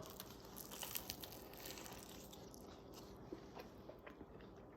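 Biting into a steak sandwich on a pretzel bun with A1 sauce, close and quiet, with soft crunching bites and chewing plus faint wrapper crinkles throughout.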